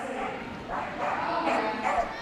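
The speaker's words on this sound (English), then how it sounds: "I'm laughing at the amount of noise that this dog's making, really" An 8-year-old working cocker spaniel barks and yips repeatedly at Crufts, a busy, noisy run of sharp yaps over arena crowd noise and a commentator's voice.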